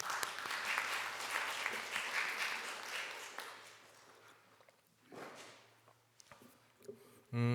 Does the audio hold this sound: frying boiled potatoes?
no